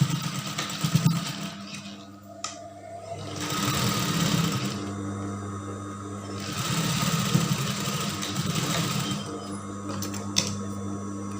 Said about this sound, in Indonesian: Pertama, kita jahit bagian bahunya terlebih dahulu.